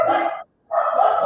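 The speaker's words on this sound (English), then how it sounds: "Sorry about my dogs." Dogs bark indoors in two loud, close bursts separated by a short silence, with no talking over them.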